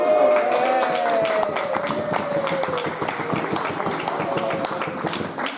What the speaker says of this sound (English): Yay. Applause.